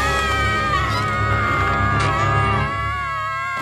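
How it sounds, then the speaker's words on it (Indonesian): High-pitched cartoon pony voices screaming and shrieking together, a loud sustained chorus of squeals with layered pitches, like an excited crowd of young voices. "Kalian bisa berhenti berteriak sekarang."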